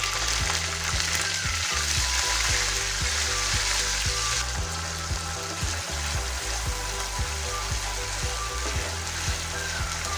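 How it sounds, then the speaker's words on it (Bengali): Onion paste fries in hot oil with whole cumin, cloves and cinnamon, making a loud, continuous sizzle close by. Soft low knocks of stirring run underneath throughout. "এবার এর মধ্যে দিয়ে দেব পেঁয়াজ বাটা।"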